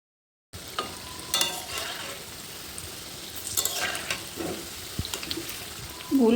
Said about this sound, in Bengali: কড়াইতে তেল দিচ্ছি, দিয়ে একটা একটা করে ছেড়ে আমি সবগুলো বড়া ভাজে নেবো।